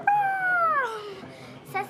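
A person's voice imitates a cat's meow, a single drawn-out mewing call with a falling pitch lasting about a second, followed by a brief, faint vocal sound near the end.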